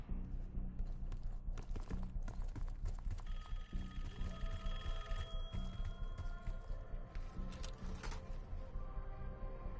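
A telephone rings in the video game Call of Duty: Black Ops 6, a loud, steady, rattling bell ring that runs the whole time over layered game tones and hum.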